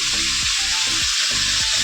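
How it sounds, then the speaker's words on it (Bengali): Potatoes and pointed gourd frying in a pan in a home kitchen give a steady, close, loud sizzle with faint stirring scrapes, and no voices. "এখানে আলু আর পটল ভাজা বসিয়ে দিয়েছে"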